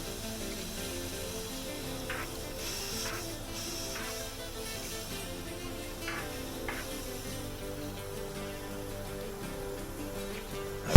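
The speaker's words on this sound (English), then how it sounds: "It's time to powder coat now." A powder coating spray gun coats Matchbox M2 Bedford articulated truck model parts with a steady soft hiss, punctuated by a few brief bursts of louder spraying, with a sudden sharp noise at the very end.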